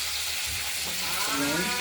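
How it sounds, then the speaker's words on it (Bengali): Cut flat beans and potatoes fry with tempering spices in a pan, giving a steady close sizzle that swells slightly toward the end and carries a few brief tonal squeaks. "শিম আলুগুলো ফোড়নের সঙ্গে ভাজা হচ্ছে"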